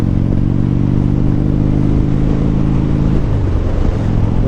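Harley-Davidson Dyna motorcycle engine running close by, a loud, steady low rumbling idle with rhythmic pulsing and a slight change in tone near the end.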